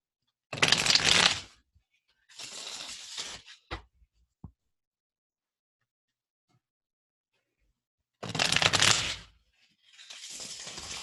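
Osho Tarot cards are shuffled by hand in close, crisp bursts of riffling and fluttering, two quick rounds, a pause of near silence with a couple of small taps, then two more shuffles.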